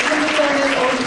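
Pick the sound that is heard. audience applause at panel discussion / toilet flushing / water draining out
audience applause at panel discussion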